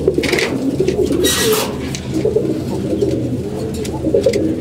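Several pigeons suffering from watery droppings coo in low, throaty rolling calls close by, overlapping in a steady, fairly loud murmur with brief higher rustles.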